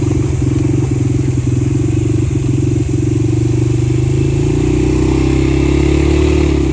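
A four-wheel ATV engine on a rough, narrow, winding mountain trail in Ganghwa Island runs loud and close, droning steadily with brief stutters, then its pitch rises as it picks up speed.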